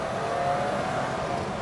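A BMW E30 325i pulls hard through the gears, its engine note a steady sustained whine and drone heard close from inside, with no talking.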